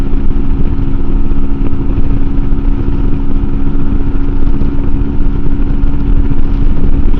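MUTT 125 adventure motorcycle ridden in sixth gear near 8,500 RPM, a steady droning engine note under heavy wind rush on a blustery day, close and continuous with no talking.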